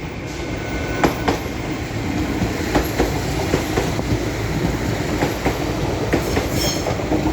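A Class 195 Northern diesel multiple unit departs Leeds station, a loud, steady rumble with rhythmic clickety-clack of wheels over rail joints close by, and no voices.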